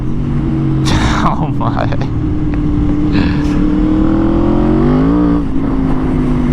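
An Aprilia RSV4 on the street roars as it accelerates, its engine note rising and falling through revs, loud and close under rushing wind, with a rider's brief spoken exclamation.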